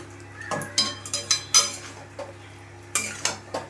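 Fried jackfruit and potato pieces being stirred and tossed into a spice masala in a pan, with a spoon scraping and clinking against the metal in irregular bursts over a faint steady hum.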